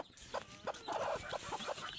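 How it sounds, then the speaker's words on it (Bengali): A native country hen clucks close by in soft, repeated bursts at an irregular rhythm, fairly quiet against a still background. "এখন দেখতেছি মুরগিটা ডাকছে, সম্ভবত বাচ্চা উঠছে"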